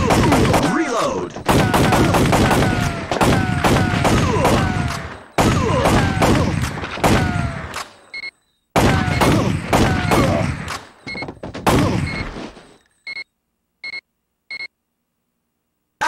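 Rapid volleys of gunshots ring out in Time Crisis played on a PS1 with a Guncon light gun, dense bursts of loud gunfire broken by short gaps, ending with a few isolated electronic beeps.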